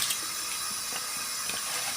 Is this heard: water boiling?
yes